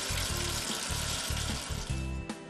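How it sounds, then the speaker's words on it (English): A faucet pours steadily into a sink basin, a dense rushing hiss that stays level and close, with a soft rhythmic low churn beneath and one brief sharp tick near the end. "Water from the sink filling"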